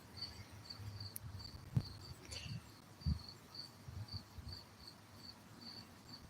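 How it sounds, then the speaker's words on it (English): Crickets and cicadas chirp in a steady, repeating high pulse against a quiet outdoor front-porch background in Wisconsin, with a few soft low thumps nearby. "I got cicadas and crickets and a whole bunch of plant life."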